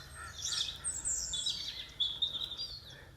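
Birdsong in a forest: several bright chirps and whistled phrases ring out intermittently over quiet background hiss, fairly close and clear.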